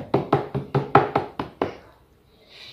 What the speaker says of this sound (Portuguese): Aí o lobo mau bateu na porta.